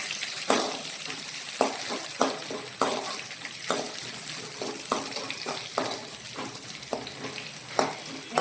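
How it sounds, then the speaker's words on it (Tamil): Crushed garlic frying in a pan, a steady close sizzle broken by sharp scraping stirs every second or so, with no talk. "பூண்டு தட்டி வச்சுருக்கேன். காஞ்சி இதை நல்லா வறுத்து விட்டுக்கலாம்."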